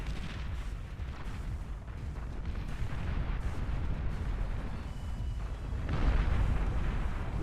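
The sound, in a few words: pop-up plasma artillery fire in video game Beyond All Reason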